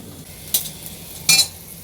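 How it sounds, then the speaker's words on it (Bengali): Dried chillies go into hot white oil in a kadai, a soft background sizzle broken by two short bursts of crackling and spoon scraping. "এই যে এখন এই মরিচ, শুকনা মরিচ দিয়ে দিলাম কিছু"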